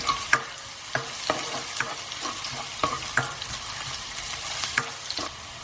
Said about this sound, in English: Once the oil is heated up, in goes our ginger and garlic paste. Give that a mix.